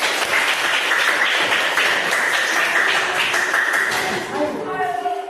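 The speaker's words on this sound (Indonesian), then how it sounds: "Beri tepuk tangan untuk kalian semua." Students clapping for their classmates after a group presentation in a Grade 7 classroom, a dense, steady patter of many hands sustained throughout, tapering slightly near the end.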